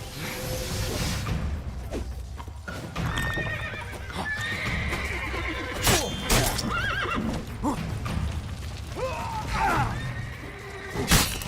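Horses whinny loudly several times in The Witcher 3 over a busy mix of hooves clip-clopping, whooshes and scuffling in a game action scene.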